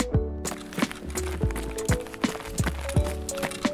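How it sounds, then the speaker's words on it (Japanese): Footsteps of someone walking above ground in the Escape from Tarkov video game, a steady run of even, thudding steps at a walking pace, fairly close and clear. "地上で誰か歩いてる"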